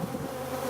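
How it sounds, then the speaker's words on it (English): Drone honeybees swarm into a beehive, their dense continuous buzzing loud and close throughout the brief moment. "Big old drones are pouring in here."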